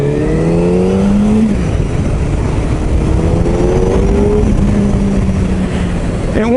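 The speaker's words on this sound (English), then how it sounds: "It's got a lot of induction noise from the airbox" A Suzuki Hayabusa motorcycle in full-power mode A revs through the gears with heavy airbox induction noise, pitch climbing then dropping at each shift, loud and close throughout.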